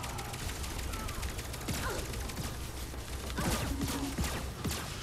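Pistol fire in the arena shooter Lawbreakers, a series of sharp shots cracking over dense, busy game noise with clicking mechanisms, moderately loud and continuous throughout.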